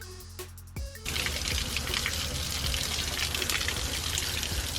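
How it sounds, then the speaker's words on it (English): Water pours through the frame of a rust-damaged Jeep Wrangler during a flush. A few faint knocks come first, then a steady, close gush and splash starts about a second in and keeps running. "You can see all the water flowing on the other side now."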